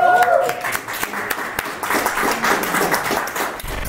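Brief applause and scattered clapping at a talk session on readers and communicators, a crowd of hands clapping densely at moderate level with voices mixed in, ending abruptly.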